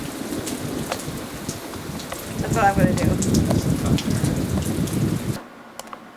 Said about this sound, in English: I wish that we could drive the car a little closer so that I wouldn't have to be out in the pouring rain.